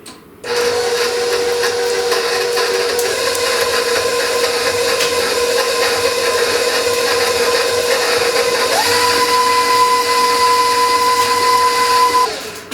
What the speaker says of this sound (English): I'm going to lift my bowl, and I'm going to mix this until it's all combined.